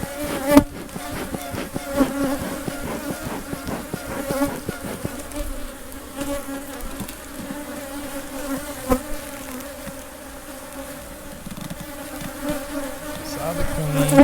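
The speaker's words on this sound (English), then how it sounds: "They have a lot of bees" Honey bees buzz in a dense, steady swarm around an open hive during a September inspection, with a few louder passes nearby and some faint background noise.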